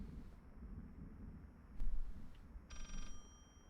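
A telephone rings inside the horror game Layers of Fear: one short, faint trilling burst of bell-like tones near the end, set against a quiet, rumbling ambient background.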